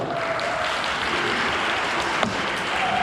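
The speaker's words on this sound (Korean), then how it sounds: "결혼식을 여기 계신 모든 분들의 큰 박수로 시작합니다" Wedding guests applaud together in a steady, dense clatter of clapping that fills the hall at the start of the ceremony, with one brief sharper knock partway through.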